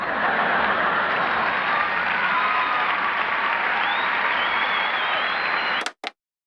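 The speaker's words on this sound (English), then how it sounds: "huge applause break for that joke" A stand-up comedy audience breaks into sustained applause after a joke, a dense, even wash of clapping that cuts off abruptly near the end.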